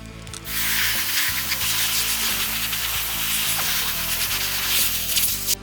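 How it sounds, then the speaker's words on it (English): A wheel woolies brush scrubs a car wheel with a steady, close, wet rubbing swish that carries on without a break from start to finish. "let's get scrubbing and wheel woollying with the Meguiars"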